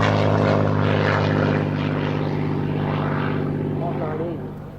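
Recorded Spitfire Mark 9C piston aircraft engine roaring loudly with a steady throbbing drone that slowly fades toward the end, voices faintly under it.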